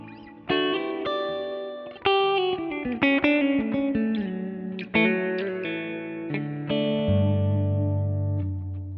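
Electric guitar notes and chords ring out with a medium reverb tail, each pluck blooming and fading into a soft wash of echo.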